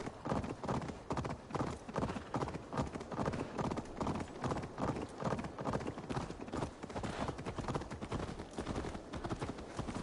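A horse in Assassin's Creed Valhalla gallops hard, hoofbeats thudding in a fast, loud, evenly repeating rhythm for the full span, close and prominent with little else over it.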